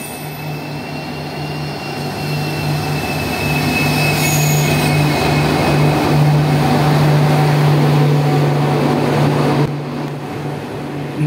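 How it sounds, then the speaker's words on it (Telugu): The Karnataka Sampark Kranti superfast express rolls into Dhone Junction station: a loud, close, sustained rumble of wheels on rails with a steady humming tone and brief squeals, easing slightly near the end. "सो प्रेजेंट कर्नाटक संपर्क क्रांति सूपर फास्ट एक्सप्रेस"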